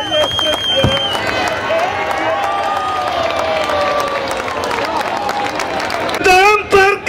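Crowd applause and cheering for the carnival king Momo at the Barranquilla carnival, a loud, dense wash of clapping and shouting that runs steadily throughout and swells near the end.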